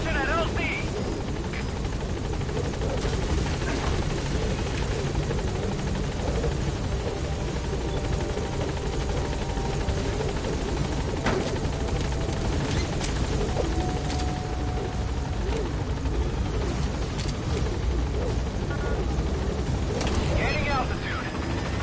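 Helicopter rotor drone from Metal Gear Solid V: The Phantom Pain, a steady loud whirring chop approaching a landing zone, continuous throughout with faint game effects layered over it.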